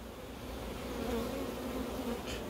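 Honeybees at an opened hive make a dense, steady buzz close by, a continuous humming swarm with no voices.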